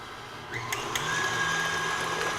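A stand mixer whirs steadily as it beats eggs and sugar for a Momofuku Milk Bar brownie pie, a constant motor hum close by with a few light clicks near the start.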